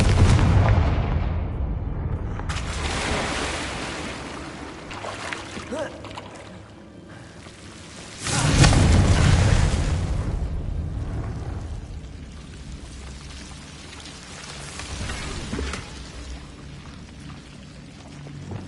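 Confringo spell explosions from the video game Hogwarts Legacy: one heavy, booming blast erupts midway and rolls off slowly, over steady game ambience and a few quieter crackling bursts.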